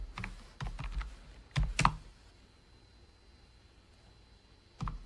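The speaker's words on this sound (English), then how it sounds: "I will type solve equation" A few sharp clicks on a computer keyboard while an equation is typed, in a short irregular burst, then quiet before one last keystroke near the end.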